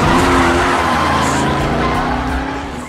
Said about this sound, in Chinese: 一脚油门离开了此处